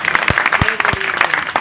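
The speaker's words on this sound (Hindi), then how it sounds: "एक बार जोरदार तालियां शुभम जी के लिए" Audience at a Ganesh festival poetry gathering claps for a poet, brief rhythmic applause with a few sharp, loud claps and voices underneath.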